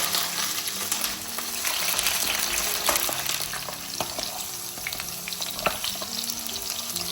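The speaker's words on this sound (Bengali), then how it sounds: "আগে আমি জুকিনিটা একটু ভেজে নিচ্ছি, হালকা একটু ভাজবো, অনেক তেল ফুটাচ্ছে।" Zucchini frying in plenty of hot oil in a pan, a steady close sizzle with occasional crackles and stirring clinks, no talking.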